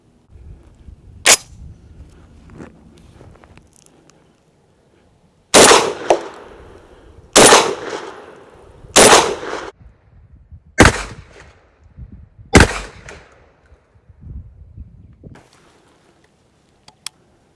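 Five loud, sharp blasts from a Rock Island Armory VR80 12 gauge shotgun firing Armscore slugs, roughly evenly spaced at close range, with a fainter earlier pop and quiet handling noise between shots.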